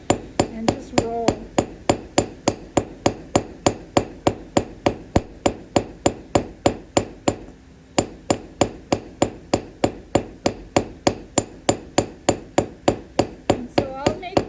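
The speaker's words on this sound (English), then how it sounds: "You want to lay it down nice and flat on the anvil and just roll." Rapid, steady hammer blows ring out on metal being forged on an anvil, dozens of loud, bright clangs in an even rhythm with one brief pause midway, close and unaccompanied by talk.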